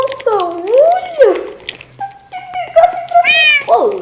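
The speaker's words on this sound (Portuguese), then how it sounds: "É muito bom fazer amizade com gato." A cat in a video game meows several times in close, loud, rising and falling cries, with a voice speaking between and around the meows.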